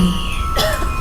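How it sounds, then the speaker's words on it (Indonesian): A woman's single short cough rings out close by over a steady background hum, followed by a faint breathy sound. "aku terbangun oleh suara batuk dari perempuan di sebelahku"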